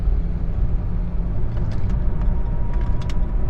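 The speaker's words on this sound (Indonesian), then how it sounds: "Mobil yang gue pakai ini Toyota Agya" Steady interior road noise from a 2015 Toyota Agya LCGC hatchback on the move: a continuous low rumble of engine and tyres with a few faint light rattles, close and even throughout, with no talking.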